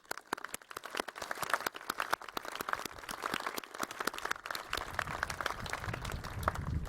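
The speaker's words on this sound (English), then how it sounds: "It's okay to applaud there, folks" Applause from an audience at a Smithsonian museum ceremony welcoming Space Shuttle Discovery, a mix of sharp individual claps and scattered clapping, fairly close and uneven, with a low rumble toward the end.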